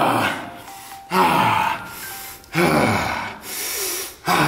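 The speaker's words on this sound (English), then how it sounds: "See me breathing through my nose?" Heavy nasal breathing during an intense bodyweight quad workout, with three loud, rhythmic snorting breaths in and out through the nose, close and alone.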